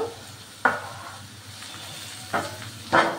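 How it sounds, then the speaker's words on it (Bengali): Chopped capsicum and tomato going into a pan for pasta, giving a soft steady sizzle with three sharp clatters of stirring and scraping spaced over a few seconds, no voices. "এইবার আমি একে একে ক্যাপসিকাম ও টমেটো কুচি দিয়ে দিলাম"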